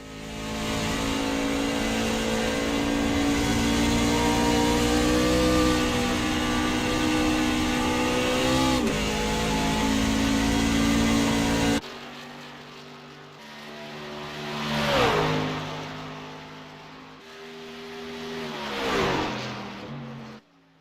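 Race trucks roar around the Watkins Glen road course, a sustained high engine drone that shifts pitch as they pass, then quieter stretches with engines rising and fading in sweeping passes, no talk heard.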